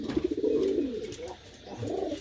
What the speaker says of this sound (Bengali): কবুতর সবারই পছন্দ, সবাই এদেরকে পছন্দ করে।